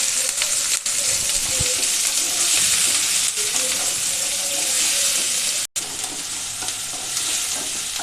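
Chopped onion fries in hot oil with green chilli, garlic and ginger, a dense, steady sizzle near at hand, with a brief cut in the sound just before the end.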